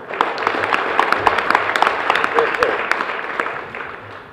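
An audience at a 50th anniversary celebration dinner claps steadily, a dense burst of hand claps that slowly thins out toward the end.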